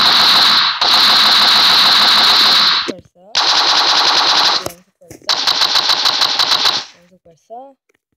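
Rapid automatic gunfire in a video game comes as three long continuous bursts of fast, sharp shots, loud and close, with brief pauses between them and a short trailing sound at the end.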